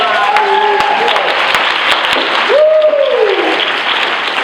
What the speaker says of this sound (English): Ladies and gentlemen, let's have a huge round of applause for everybody